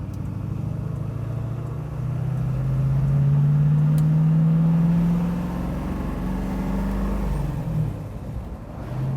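A 1970 Boss 302 Mustang V8 cruising along back roads, a deep steady engine rumble that swells slightly as it pulls, then eases, heard from inside the car with no talking.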